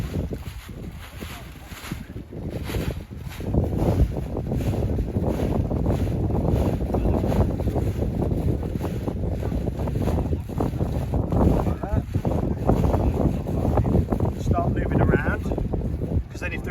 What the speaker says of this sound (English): So tuck that under because it's got windy.